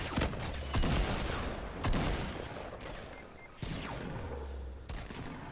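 Rapid bursts of gunfire and blasts from a Fortnite Battle Royale squad match come in several loud, dense volleys with brief gaps between them, and no talk over them.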